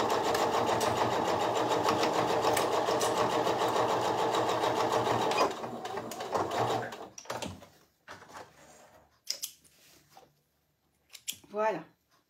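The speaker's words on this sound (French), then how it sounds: "on coud à 1 cm du bord, un petit point avant. On essaye de ne pas créer de décalage et on coud sur toute la longueur." A domestic sewing machine runs a steady forward stitch along fabric about 1 cm from the edge, a loud continuous whirring that stops after about five seconds, followed by a few short clicks and handling sounds.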